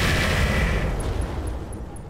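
Rocket salvo from a mech in the video game Roguetech: a dense, loud rumbling barrage with heavy low-end blasts that tails off into a crackling wash, with faint high beeps at the end.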